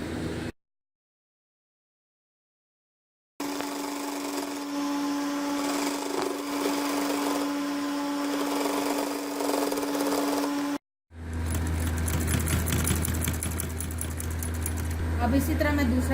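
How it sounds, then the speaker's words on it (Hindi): A sewing machine stitches the bottom hem of a ladies' white trouser, running in a steady whirring hum for several seconds after a silent gap, then a brief pause and another steadier motor drone. "चलिए अब हम सिलाई लगाते हैं।"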